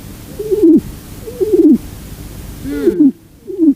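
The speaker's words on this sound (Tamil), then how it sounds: "புறா கூவும் சத்தம்" A pigeon coos four times in a soft, throaty, rolling rhythm, each call about a second long, close by with quiet pauses between.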